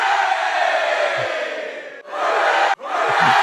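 A large crowd roars and cheers loudly in a sustained wall of voices, briefly dipping twice before surging back.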